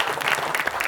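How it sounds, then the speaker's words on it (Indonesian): A brief burst of audience clapping for a high school performance at a quick-answer quiz competition, dense and moderately loud for under a second. "Kita berikan tepuk tangan kembali"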